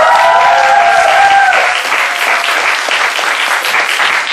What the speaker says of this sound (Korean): 연설분께 큰 박수 한번 부탁드립니다